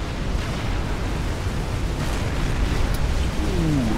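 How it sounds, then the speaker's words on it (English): Battleship cannon volley in the naval strategy game Forged Alliance Forever, a dense, sustained rumble of distant blasts and booms layered together, with no voices. "Ooh, look at that fire, that volley."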